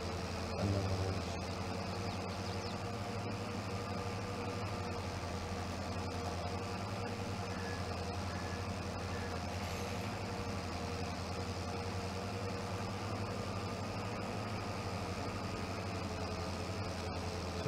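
An old tractor in Farming Simulator 22 runs with a steady, low droning engine rumble that holds an even level throughout, close and unbroken.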